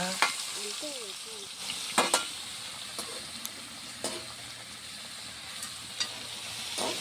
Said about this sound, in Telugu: పుట్టగొడుగులు అయితే వేసి రెండు నిమిషాలు వేయించుకుంటా